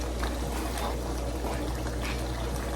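Water pours steadily in a continuous splashing stream into a pot of Nigerian ogbono soup, close and fairly loud, with nothing else over it.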